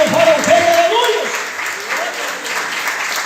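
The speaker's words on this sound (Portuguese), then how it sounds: "Pode bater palmas para o Senhor Jesus" A church congregation claps in praise during a worship service, with the clapping under overlapping voices and a sung or shouted line near the start, then tapering slightly.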